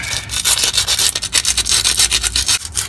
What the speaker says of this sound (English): So I'm gonna scratch with the sandpaper.